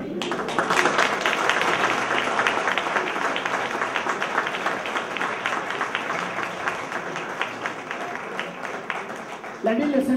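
Sustained applause from a large crowd at an evening tribute to library volunteers, dense and steady for about ten seconds, slightly fading before a brief swell at the end.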